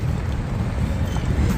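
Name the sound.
strong wind on a ship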